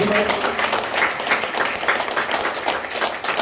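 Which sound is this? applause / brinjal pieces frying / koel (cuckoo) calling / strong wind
applause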